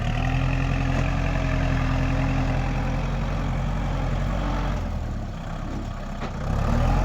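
A tractor engine labours steadily while pulling a disc plough through soft clay soil, a loud low rumbling drone that dips briefly then returns, no voices.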